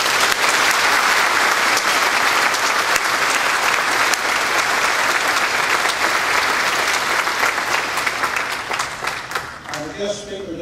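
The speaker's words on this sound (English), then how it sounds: "Let's give them a big round of applause." A crowd claps loudly and steadily at a World War II veterans' ceremony held at Timber Creek High School, sustained dense applause filling the room before tapering off near the end.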